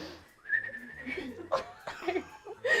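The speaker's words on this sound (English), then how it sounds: "It's just whistling. Whistling and laughing." A person whistles a short tune with rising and falling notes, interrupted by bursts of laughter and giggling near the end.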